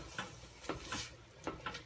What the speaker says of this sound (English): You want to stir it as you go